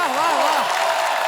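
Studio audience applause and cheering on the Kapil Sharma Show welcoming a guest, a dense, loud burst of clapping with sung or voiced tones over it.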